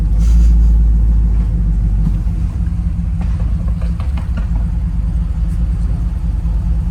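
An old car engine, running for the first time since 1988, rumbles steadily at close range while driving, with a low, rough drone that holds level throughout and no voices.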